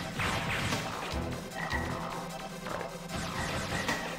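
Frogs croak repeatedly in the video game Mega Man Legends 2, dropped by a mini boss. The croaks come in quick bursts amid busy, continuous game sounds, fairly loud throughout.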